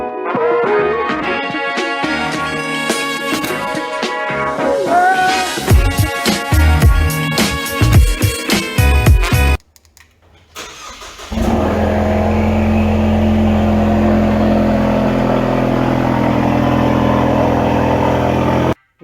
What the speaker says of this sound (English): let's go ahead and get the Mustang a cold start